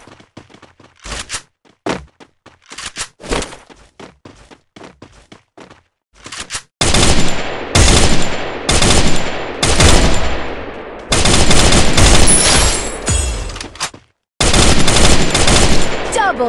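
Rapid bursts of gunfire in the mobile game Free Fire during a solo versus squad match, starting with scattered single shots and building to loud, sustained automatic volleys with short gaps.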